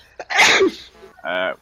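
A single sharp sneeze bursts out close by during a farm conversation about straw and fields, followed by a brief voiced sound afterward.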